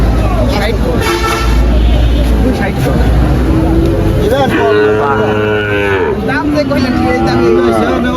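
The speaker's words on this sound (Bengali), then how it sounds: "এই যে একটা গাভী, এই গাভীটা মনে হয় বিক্রি হয়েছে না" Cow lowing at a busy cattle market in Faridpur, a loud drawn-out moo among crowd chatter, vehicle horns and general bustle, with people talking close by.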